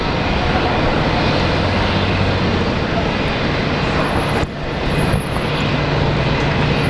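A Korean Air jet airliner lands at Brisbane airport with a loud, steady roar of engines and rushing air that fills the scene and barely eases.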